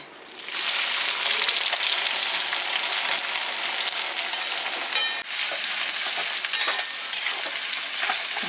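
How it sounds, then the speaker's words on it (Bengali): Cinnamon, cardamom and chopped onion fry in oil over an outdoor stove for a country chicken curry, giving a loud, steady, dense sizzle that runs unbroken from start to finish with no talking. "আর দারচিনি এলাচ দিয়ে দিচ্ছি কুচুনো পেঁয়াজ"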